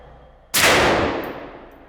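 Single loud gunshot from a gun fitted with a Yankee Hill Machine suppressor at an outdoor range, a sharp close crack that decays over about a second, with no talk.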